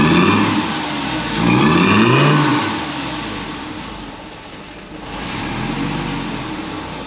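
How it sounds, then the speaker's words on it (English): A Lamborghini supercar engine revs loudly nearby in two swelling blips, the pitch climbing and falling before settling back to a steady idle rumble, with a shorter rise near the end. "Just going to give it a rev, we'll see what it sounds like"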